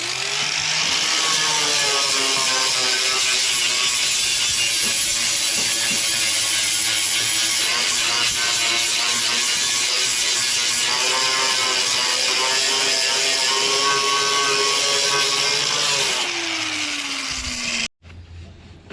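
An angle grinder fitted with a grinding disc works on the rotted steel mower deck of a Craftsman LT1000 lawn tractor, a loud continuous whine with shifting pitch that winds down near the end.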